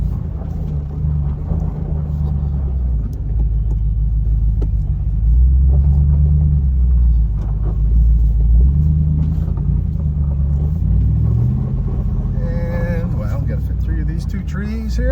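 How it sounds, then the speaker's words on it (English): A big old Power Wagon truck crawls along a wooded off-road park trail, its engine a steady low rumble throughout, close and loud, with someone talking over it. "So that's what happens when you drive a big old power wagon."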